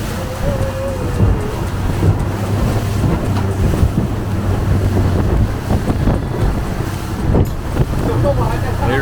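Big waves crash against a rocky shore at Sai Kung beach in Hong Kong, a continuous loud surf roar buffeted by wind noise, with voices talking faintly underneath.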